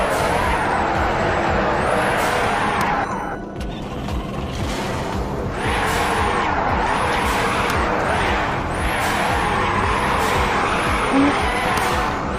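Video game car accelerating quickly, with a loud, continuous engine roar. A rising-and-falling whine repeats throughout, with a brief dip in the middle.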